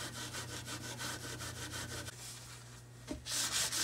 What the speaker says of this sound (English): rubbing it off with a paper towel helps remove the adhesive residue